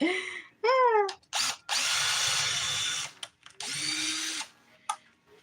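A power drill boring a tiny hole in a small Dollar Tree craft wood stump, heard in two loud, sustained whirring bursts with brief pauses between. A short voice sound comes at the start, and light clicks and handling noises follow.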